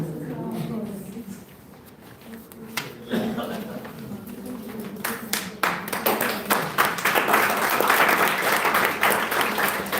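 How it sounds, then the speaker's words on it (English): Students in a classroom or lecture hall clap for themselves at the end of a self-discovery talk. Voices and scattered claps start it off, then the applause swells into louder, denser clapping over the last several seconds. "So clap for yourself."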